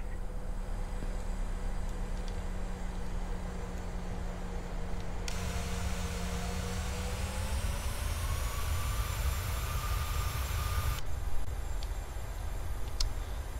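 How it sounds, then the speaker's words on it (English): A simulated PMDG 737-700 jet on its takeoff roll in Microsoft Flight Simulator 2020: a steady, loud engine roar whose whine climbs and shifts in pitch as thrust builds, with no voices. "Just a quick intersection takeoff."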